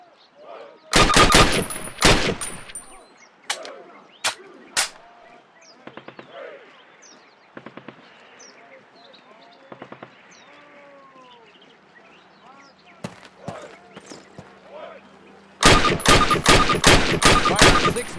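Bursts of rifle fire at a target in the 2003 Call of Duty video game, clustered volleys of sharp cracks at the start and end with scattered single shots, faint chirping and small game sounds between them.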